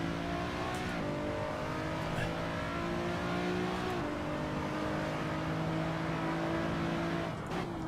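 Renault Megane Trophy race car driven in the Assetto Corsa game, its engine droning steadily with sustained revving tones that shift pitch as gears change, loud and continuous with no talk over it.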